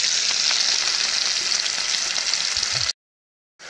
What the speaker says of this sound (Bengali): এদিকে আমি আলুটা ভাজা করে পনিরটাকে একটু হালকা করে ভেজে নিচ্ছি